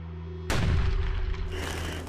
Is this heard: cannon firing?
yes